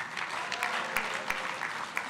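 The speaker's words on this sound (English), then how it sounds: "round of applause" Audience applause at a high-level dialogue event on the Kampala Convention in Uganda, a steady dense wash of clapping from a large hall crowd with a few sharper individual claps standing out.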